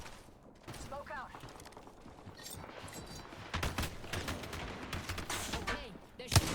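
Gunfire in the game Apex Legends comes as bursts of rapid shots, quiet at first and then heavier and closer in the second half, with a sharp bang at the end and game voices talking underneath.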